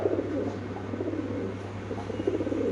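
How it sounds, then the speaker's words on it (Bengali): A pair of fantail pigeons at a large fancy pigeon farm coo softly and continuously over a steady low background hum, with no voices. "এখানে আছে একজোড়া ফ্যান্টেল কবুতর আপনি দেখতে পাচ্ছেন"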